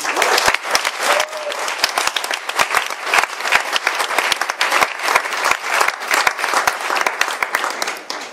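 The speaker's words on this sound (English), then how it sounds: "So we please have a round of applause for the bridesmaids." Wedding guests applaud the bridesmaids at an evening reception, a dense, steady round of clapping lasting throughout, close and loud, with a few sharper individual claps standing out.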